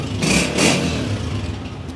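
A Honda 125 Gold Edition motorcycle engine revving close by, two quick throttle blips rising over a rough, steady idle.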